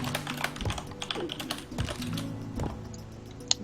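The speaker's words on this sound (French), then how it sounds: "Quand tu tapais, on l'a entendu." Close, steady typing on a computer keyboard during a game session, a quick run of light key clicks with one sharper keystroke near the end.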